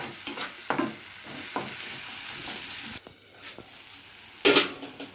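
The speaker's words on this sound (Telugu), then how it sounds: "ఇప్పుడు పేస్ట్ అయితే ఇందులో వేసేసుకుంటుంది బాగా వేయించు నూనెలో బాగా వేయించుకోవాలి ఈ మసాలాలన్నీ" Masala paste frying in oil for a tamarind fish-style curry, a continuous sizzle broken by scraping stirs and clinks of a utensil against the pan.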